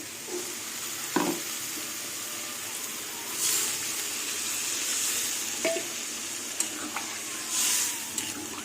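Water hits a hot pan of aloo posto, a potato and poppy seed dish, and sets off a steady, hissing sizzle with a few soft knocks and stirring scrapes.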